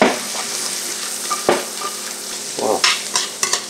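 Rabbit pieces sizzle in melted butter in a pot with minced garlic, a bright continuous frying hiss close up, broken by a few soft knocks and scrapes of stirring.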